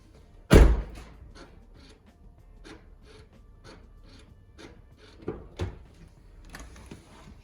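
A base-model truck's door slams shut with one loud thud, followed by quieter clicks and clunks as the power locks are tried, with faint soft knocks in the background.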